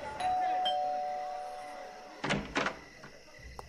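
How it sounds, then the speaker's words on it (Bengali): A two-tone doorbell rings once, close and moderately loud, standing as the lone sound in a crime audio story scene where police arrive at a house; faint room tone and a soft thump follow. "বাড়ির ভিতর ঢুকে তারা কলিং বেল টিপল।"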